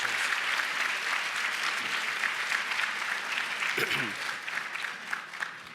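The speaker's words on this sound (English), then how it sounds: "And now you can applaud those 15 outstanding bar associations" Sustained applause from an awards event crowd honoring bar associations, a steady wash of clapping that carries evenly throughout, with a brief voice surfacing near the end.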